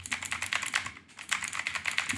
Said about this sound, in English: if we were to go back to the keyboard, for example, you shouldn't hear as much with the keyboard behind